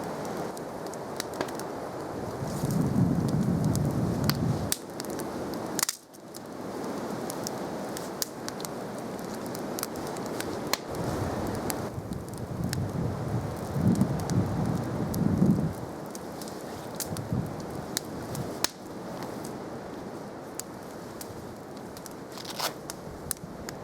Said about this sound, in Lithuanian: Lynoja biškį.